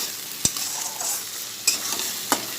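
Spices frying in a pan for a fish and vegetable curry, a continuous gentle sizzle with three sharp scraping clacks of a stirring spoon spaced apart, no voices.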